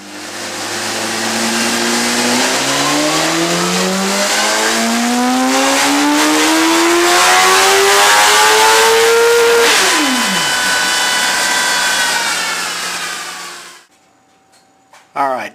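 A brand-new BMW S1000RR superbike, still on break-in oil, revving hard on a dyno, a loud close engine note climbing steadily through the gears for about ten seconds, then dropping sharply and cutting off.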